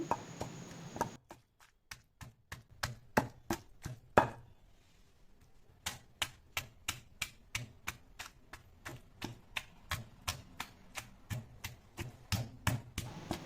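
Onion and green chilli coarsely pounded for a chutney, sharp rhythmic thuds repeating steadily and close, with a short pause before the beating resumes at a quicker pace.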